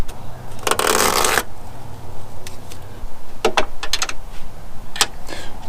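A wrench works the bolts on a truck mirror of a 2000 Ford F-250 7.3 Powerstroke: a loud rasping burst up close, then a scatter of sharp metallic clicks and ticks.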